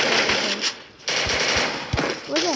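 Machine gun fire in a video game, loud rapid bursts broken by short pauses, close up, with someone talking over the shooting.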